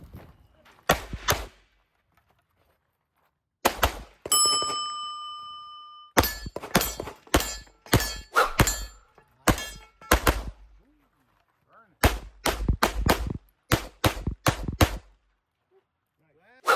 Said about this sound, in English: I have some footage of him shooting.